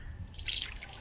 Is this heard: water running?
yes